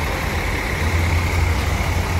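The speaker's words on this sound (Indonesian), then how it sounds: "telah tiba ya di jam 1 siang bus tronton Scania K410 dari Malang" A Scania K410 tronton bus arriving at the terminal, its diesel engine running with a steady, loud low rumble close by and no talking.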